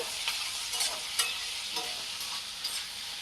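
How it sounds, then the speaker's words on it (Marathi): Ivy gourd (tendli) being stirred with salt in a hot pan, giving soft scraping strokes over a steady close sizzle of frying, with no talking. "याला आपण परत मिक्स करून घेऊ"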